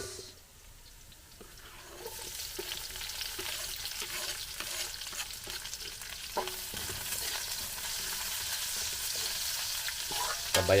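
Garlic and onion fry in a pan at an outdoor farm cooking spot, a steady broadband sizzle rising after a quiet start, with intermittent scraping clicks of stirring throughout and no talk.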